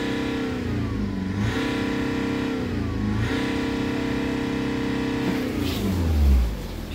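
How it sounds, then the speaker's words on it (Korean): A BMW 520d xDrive diesel engine at a scrapyard, idling steadily, then revved twice on the accelerator with two rising surges and a final throttle blip, heard up close with no talk. "액셀레이터 두 번."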